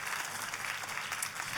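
A church congregation claps steadily for a moment, a dense even patter of many hands heard at moderate distance.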